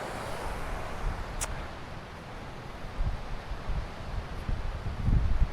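Wind rustles leaves and branches along a mountain hiking trail in the Mercantour, a soft continuous hiss that swells into heavier gusts and mic buffeting toward the end, with a brief sharp click partway through and no talking.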